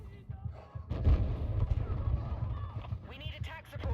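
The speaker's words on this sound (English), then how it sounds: "He got killed by the cretinous mortar." Mortar and artillery blasts in Battlefield 6 thud repeatedly in a chaotic game battle, with muffled booms and gunfire layered under excited talking throughout.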